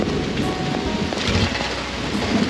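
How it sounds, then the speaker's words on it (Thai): Heavy rain falling steadily during a trip from Ban Phonxai toward Mahaxai in Laos, a dense, continuous hiss and roar with no letup and no voices. "ฝนตกหนักมาก"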